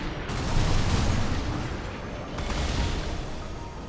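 Laser turrets and missiles firing in Armored Core 6, a dense, continuous barrage of gunfire-like bursts and booms that swells and holds loud throughout.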